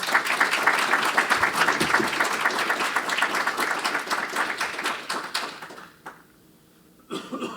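An audience at a lecture on poverty, ethics and artificial intelligence welcomes the speaker with lively clapping that thins out and stops near the six-second mark. A few scattered claps or bumps follow after a short hush.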